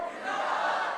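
A crowd of audience members shouting the slogan "Pakistan" back in unison at a media event, one sustained loud collective roar that swells and holds for about a second.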